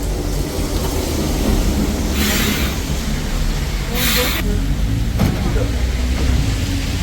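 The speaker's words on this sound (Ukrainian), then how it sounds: "Це старовинний трамвайчик, він робить коло по центру Мельбурно." An old heritage tram runs a loop through central Melbourne, giving a steady rolling rumble with a few brief hissing bursts over the continuous street noise.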